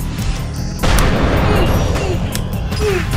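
A pair of exploding boots goes off in the fighting game GetAmped, a sudden loud burst at about 0.8 seconds followed by a sustained noisy rumble that carries on under the game's sound effects.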